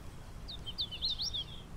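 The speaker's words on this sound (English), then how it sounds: "No, that's a hooded warbler." Hooded warbler singing outdoors: a quick series of thin, rising and falling whistled notes, faint and somewhat distant, over a low steady background rumble.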